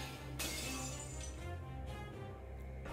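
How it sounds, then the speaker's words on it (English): In the video game Fate/Stay Night, a crystalline glass barrier shatters with a sharp crash, followed by scattered tinkling breaks over a dense, low rumbling backdrop. "Her crystalline barrier shatters under the deadly rain of so many weapons"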